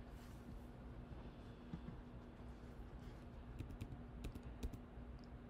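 Quiet tapping on a computer keyboard, including arrow keys, while positioning a design in laser cutter software; a few sparse light clicks, then a quicker cluster of sharper key presses toward the end.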